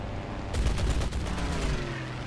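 Aircraft machine guns on a Bf 109 E-3 fire in War Thunder, a loud rapid burst of gunfire that continues with a rattling tail of shots.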